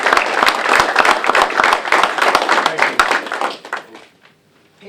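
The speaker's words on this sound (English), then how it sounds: "deserves a joyous round of applause" Audience applause at a minor-league baseball event, dense clapping from a crowd that carries loudly for about three seconds, then thins out and fades to near silence.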